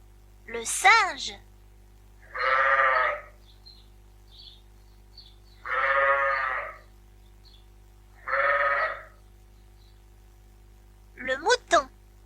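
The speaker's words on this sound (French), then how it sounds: "Le mouton." A sheep bleats three times in evenly spaced, wavering calls, framed by short chirpy sounds at the start and end, with nothing else in between.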